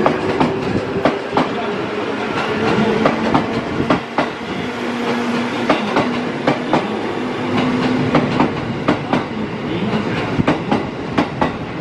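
A JR 221 series train on the Miyakoji rapid service to Nara departs platform 8 at Kyoto Station, with steady rolling rumble and repeated clickety-clack wheel beats over rail joints, loud and close throughout.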